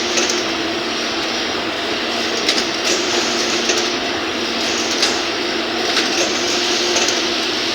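A new Shima knitting machine, a 21-gauge, 86-inch model, runs steadily, a loud continuous mechanical whir and hiss with faint rhythmic clicks and carriage sweeps recurring every couple of seconds, no talking.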